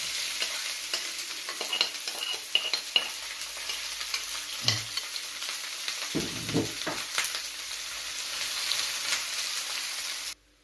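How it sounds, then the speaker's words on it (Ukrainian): Onion rings soften and sizzle in a pan as filling for a mushroom pancake cake, a continuous bright crackle with occasional stirring scrapes and low clunks partway through, steady and close until it cuts off. "а тепер буду цибулю притушувати для начинки"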